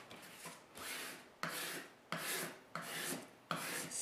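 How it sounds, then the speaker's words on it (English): A spatula rubs fabric flat onto a cutting mat in four or five firm, rasping strokes, each a close, dry scrape separated by short pauses, with no talking. "I like to use a spatula to get all the bubbles out"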